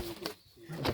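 A foreign racing pigeon, Belgian-ringed and bred in 2009, coos in a racing loft with a low, throaty call that swells near the start and again at the end of a brief moment, with faint background noise.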